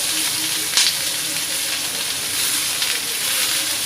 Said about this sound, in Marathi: आता मी तेलामध्ये कांदा चांगला परतून घेणार आहे